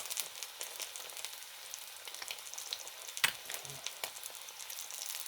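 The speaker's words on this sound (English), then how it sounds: "you watch an egg being fried." An egg fries in a pan with a soft, continuous sizzle and crackle, close and fairly quiet, with occasional sharper pops and no voices.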